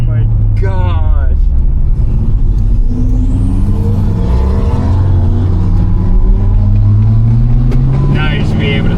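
A turbocharged Porsche GT2 RS supercar engine roars close and loud through a canyon, with a steady rising drone and turbo whine under excited talk.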